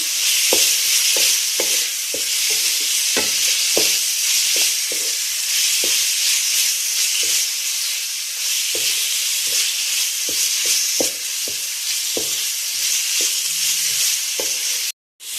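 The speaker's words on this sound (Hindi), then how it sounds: "इसको अच्छे से फ्राई कर लेंगे। 3-4 मिनट आप इसको फ्राई कर लें।" Chicken with crushed garlic frying in a pan for a chicken pasta dish, with a loud, steady sizzle throughout and frequent soft knocks and scrapes of stirring, ending in a brief cut.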